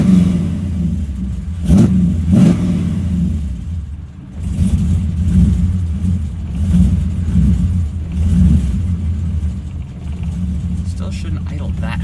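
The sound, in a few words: Pontiac Trans Am engine starting and idling rough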